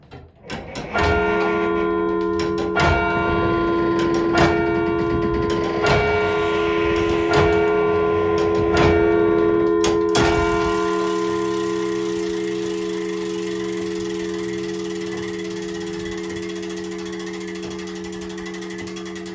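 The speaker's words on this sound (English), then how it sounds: "chime of bells, which had been forged in Croydon, England, was installed in 1906." Church bells cast in Croydon, England, installed in 1906 in a historic pioneer church, ring in a series of struck tones with long sustained hum, strikes repeating for ten seconds then left to ring out and slowly fade.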